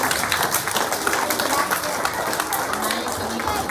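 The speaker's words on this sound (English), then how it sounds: "A big round of applause for those readers" Applause for student readers at a school assembly fills the hall as steady, dense clapping from a crowd of children, with voices mixed in throughout.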